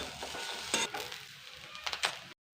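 A spoon scrapes through a coconut mixture in a pan for coconut fritters, giving a few soft, scattered stirring strokes over a faint low sizzle, then a brief silence near the end.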